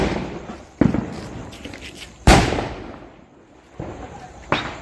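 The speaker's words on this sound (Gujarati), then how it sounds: "હવે આપણે બાહુબલી બોમ્બ છે એ કરવાનો છે." Several sharp firecracker bangs from Diwali Bahubali bomb crackers burst at irregular intervals, each loud crack trailing off into a noisy decay, with one especially strong blast near the middle.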